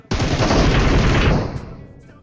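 A burst of shotgun fire in a multiplayer shooter video game, a loud, abrupt blast followed by a dense roar of rapid shots lasting over a second before tailing off.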